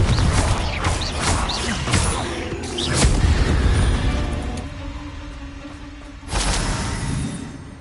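Confringo fire spell explosions in the Hogwarts Legacy video game, repeated booming blasts and crackling bursts over a continuous game background, with a second heavy impact near the end.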